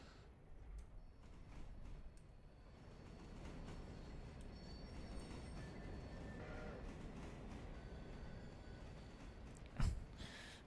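A train runs in the railroad simulation game Railroader, a steady low rumble of rolling wheels and carriages, fairly quiet and continuous, with a brief sharp clank near the end and no talking.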